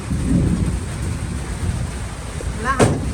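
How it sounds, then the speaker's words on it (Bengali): Heavy rain pours steadily outdoors while a sharp crack of thunder breaks through near the end, with the rumble of the storm underneath and a voice faintly present. "কত বৃষ্টি আছে, অনেক বৃষ্টি।"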